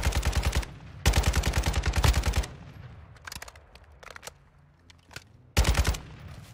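Automatic gunfire in the shooter game Warzone 2, with three loud rapid bursts of close machine-gun fire separated by quieter gaps holding faint distant shots.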